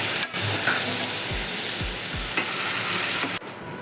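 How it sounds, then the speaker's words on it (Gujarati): Soaked, half-boiled black-eyed peas sauté in a tempering of curry leaves and ginger-chili paste, giving a steady close sizzle with a few soft spoon scrapes and stirs and no talking. "આપણે ચોળાને સરસ વઘારી લીધા છે"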